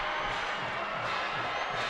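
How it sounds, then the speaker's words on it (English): A high school football crowd at a Celina at Wapakoneta game roars in a continuous broad wash of cheering after a touchdown, steady and distant-sounding with no clear voices. "the Celina crowd fired up again after that one"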